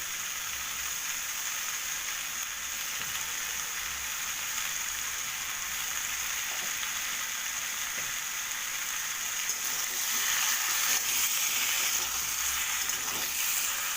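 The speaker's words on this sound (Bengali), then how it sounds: "এবার আমি এটাকে খুব ভালো করে লাল লাল করে ভাজবো" Rohu fish pieces frying in hot oil, a steady broadband sizzle that holds for the whole stretch and grows a little louder and busier near the end, with no voices over it.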